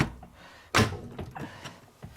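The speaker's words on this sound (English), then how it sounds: "to do it, we've got to kind of close the door first" A washing machine door is pushed shut with one solid thunk, followed by a few lighter knocks and rattles of the latch, close by and fairly quiet.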